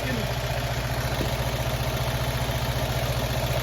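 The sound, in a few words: classic Fiat 500 engine idling after a little gas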